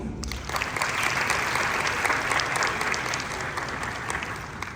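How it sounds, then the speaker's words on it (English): Sustained applause fills the hall at the Brand Magic 2024 event in Mauritius, a dense, even roar of many hands that holds steady for several seconds. "Let the applause continue."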